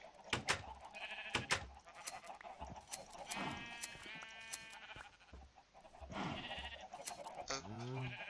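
Sheep bleating in a video game, several wavering cries scattered among clicks and other game sounds, fairly faint and quick, with a short bleat near the end.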